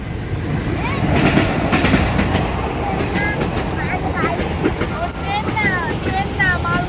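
A freight train rumbles past at close range, a steady broad roar of rolling wagons that runs the whole time, with a child and an adult talking over it and a few high squeals near the end.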